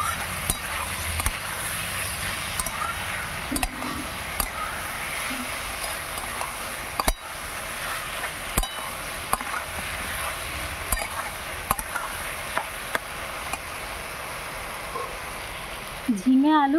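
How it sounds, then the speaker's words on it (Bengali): Ridge gourd, potato, poppy seed paste and green chilli paste stir-fry in a pan, a steady soft sizzle with scattered sharp clicks of the spatula against the pan. "ঝিঙে আলু পোস্ত কাঁচা লঙ্কা বাটা দিয়ে ভালো করে কষে নেওয়া হয়ে গেল"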